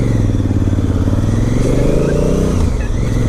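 A 2017 Honda Africa Twin motorcycle engine while riding on a daily commute, a loud, steady close-up engine drone with a low throbbing pulse and slight pitch shifts, wind noise over it.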